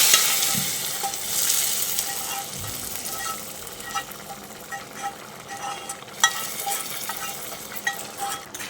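Reddish fried onions tipped into masoor (red lentil) dal and stirred, a steady bright hiss of sizzling with scattered scraping and clinking from the spoon, close and continuous, no voices.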